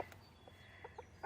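Naked neck chickens clucking softly in short, scattered bursts, fairly faint and without any voices.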